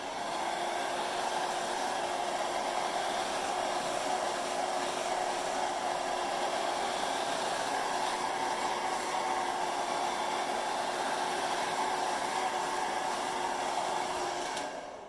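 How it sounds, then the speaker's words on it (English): A hair dryer blows hot air onto a round brush while styling hair for curl, a loud, constant rushing whir held steady for the whole stretch, close up, with no talking. "We need that hot air to heat up this brush in order to get the curl."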